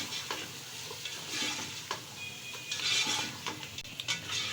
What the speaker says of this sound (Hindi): अब इन्हें हम अच्छी तरह से मिक्स करेंगे।